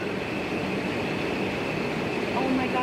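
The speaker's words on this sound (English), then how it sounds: "They have ignited the engines." SpaceX Starship rocket engines fire with a dense, continuous broadband roar that stays steady and loud, with a faint lift near the end.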